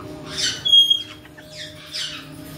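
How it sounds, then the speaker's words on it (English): A pet bird squawks indoors in harsh, raspy calls, one loud burst near the start, then softer squawks and a whistled note, close to the listener with a faint hum underneath. "Goofy Sunny bird."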